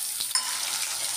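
Potato pieces frying in a pan while cooking a vegetarian cashew-poppy-seed paneer dish, giving a soft steady hiss with a couple of quick stirring scrapes, short and fairly quiet.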